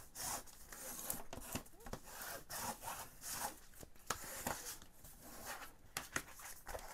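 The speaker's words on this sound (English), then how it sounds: "So now you can burnish it down." Rubbing and burnishing strokes over cardstock while altering a Little Golden Book, a steady dry scraping friction repeated in short close passes, no talk.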